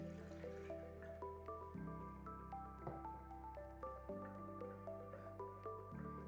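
Water pours into a Ninja BN800UK blender jug, a quiet trickle broken by soft drips and splashes as the jug fills, alone without voices.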